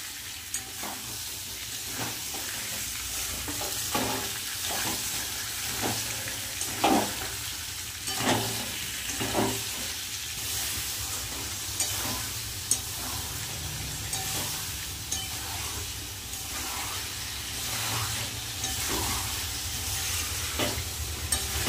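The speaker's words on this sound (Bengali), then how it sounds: "মশলার সাথে ভালো করে কষিয়ে নেব।" Potato, taro and pointed gourd are stir-fried with spices in a pan, giving a steady sizzle broken by regular scraping strokes of a spatula at a moderate pace.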